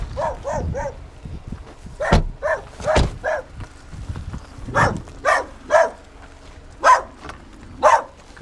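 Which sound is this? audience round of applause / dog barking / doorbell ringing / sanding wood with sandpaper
dog barking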